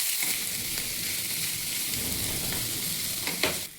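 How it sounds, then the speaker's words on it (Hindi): Panch phoron spices frying in oil in a frying pan, a continuous soft sizzle with faint crackles and a brief stirring scrape near the end. "अब हम उसी फ्राई पैन में हम अब पचफोरन डाल देंगे।"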